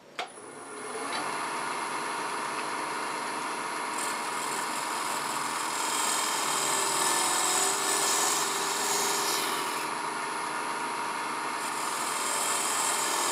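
A woodturning gouge slices a cove into wood spinning on a lathe, a steady, continuous whirring hiss that holds for the whole stretch after a brief start, close and without talk.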